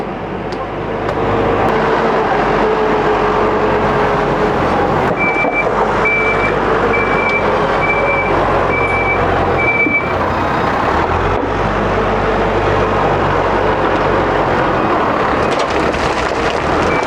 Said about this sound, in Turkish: Tit tit tit tit. Geri vites.